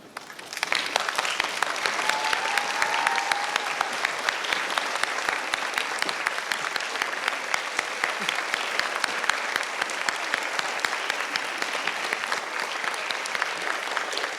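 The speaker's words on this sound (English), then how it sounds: "let's all stand and give Mr. Smith a standing ovation for a job well done" Loud, sustained applause from a large standing crowd at a middle school graduation ceremony, steady dense clapping for about fourteen seconds with no pauses.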